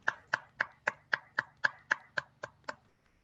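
Applause at an online Toastmasters club meeting in Karachi: a thin, sparse run of about eleven evenly spaced claps, close and fairly quiet, fading slightly at the end.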